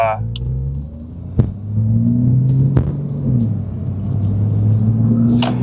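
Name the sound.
Porsche 911 exhaust note while driving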